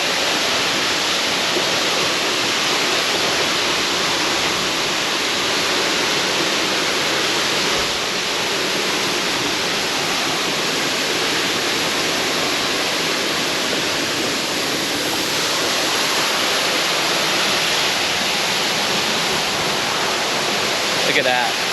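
A waterfall at a hidden hiking spot in Kentucky rushes in a steady, loud, broadband roar, constant and close throughout, with no clear voices rising above the water.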